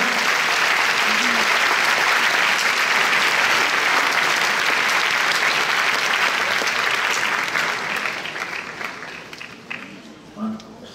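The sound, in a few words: theatre audience applause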